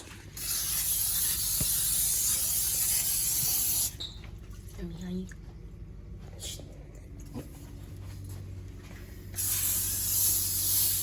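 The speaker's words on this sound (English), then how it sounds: "I'm gonna spray our baking dishes" A steady hiss of non-stick cooking spray onto baking dishes runs for a few seconds, stops, then resumes after a gap with faint handling noises and a brief murmur of voice.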